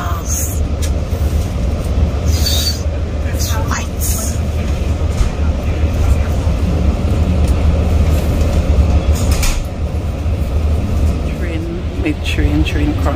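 A Long Island Rail Road train from Shirley rumbles steadily past, a continuous low roar with rattling and clanking on top, while someone talks faintly underneath.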